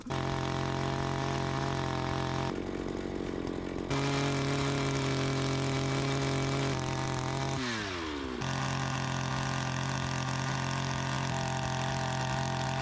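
An engine-powered earth auger runs in clay soil, its small two-stroke motor droning loudly and steadily, with brief dips and surges in pitch as the load changes.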